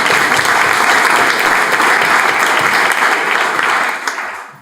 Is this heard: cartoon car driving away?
no